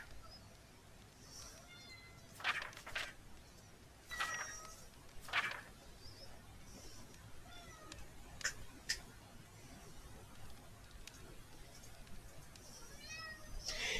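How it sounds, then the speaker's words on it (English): A cat meows softly several times in a quiet room, short faint calls spaced out over a low background hiss with light clicking. "Sorry, my cat."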